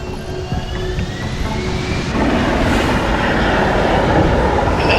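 An aircraft comes in to land in the video game Deus Ex Human Revolution, a continuous broad roar of engines and wind that grows fuller and louder partway through, with no talking.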